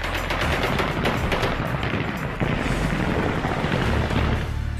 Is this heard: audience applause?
no